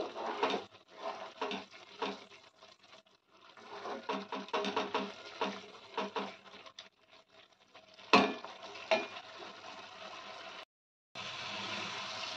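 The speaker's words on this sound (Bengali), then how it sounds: "এবার আর একটু কষিয়ে নেব।" Spice masala sautés in oil in a pan for a fish curry, with soft sizzling and repeated scrapes and stirs of a utensil against the pan, quiet and close, with brief pauses before a steady sizzle resumes.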